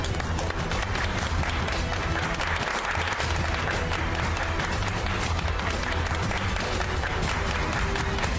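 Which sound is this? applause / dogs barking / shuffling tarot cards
applause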